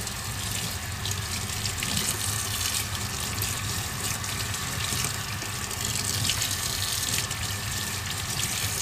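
Hot tap water runs steadily while rinsing a Nissan VH45DE engine part, a constant broadband rush and splash with no talk over it.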